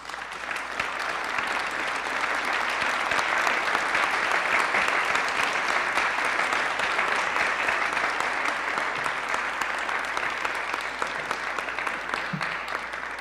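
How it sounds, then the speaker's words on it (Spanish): Long, steady applause from an audience at a political forum for a senator, many hands clapping in a dense, even roar that swells slightly in the middle and continues without pause. "Un aplauso, por favor."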